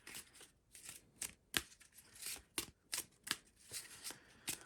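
Quiet, rapid riffling of playing cards for the board game Pavlov's House in several short bursts, a crisp flutter repeating with brief pauses between shuffles, close by.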